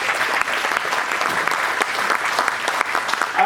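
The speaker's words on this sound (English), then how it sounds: "round of applause for that and for the ones we lost." Wedding guests applaud during a best man's toast, steady dense clapping filling the room for several seconds, fairly loud and unbroken, with faint voices mixed in near the end.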